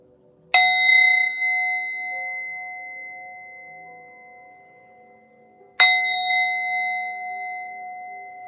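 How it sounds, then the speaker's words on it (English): A singing bowl is struck twice, each strike a bright clear ring that hums and slowly fades, with quiet stillness between. "So let's ring the bell"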